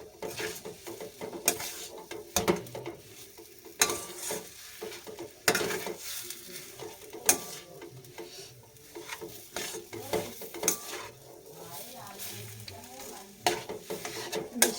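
Mixed vegetables sizzle and fry in a steel kadai over a raised flame while a utensil stirs them, with frequent sharp scraping and knocking strokes against the metal over a steady crackle, close and fairly loud, no talking.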